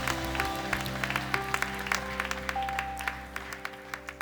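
Church congregation clapping during a Friday night worship service, a dense run of applause with sharp rhythmic claps standing out over sustained organ or keyboard chords.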